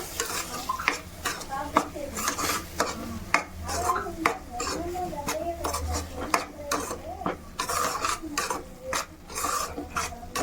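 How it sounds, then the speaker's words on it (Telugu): Sweet corn and capsicum curry gravy stirred in a pan, a spoon scraping and clacking against the metal in a steady irregular rhythm over a soft sizzle, close and fairly loud, with no talk. "ఇప్పుడు ఈ గ్రేవీ మొత్తం ఇలా కలుపుకోవాలి."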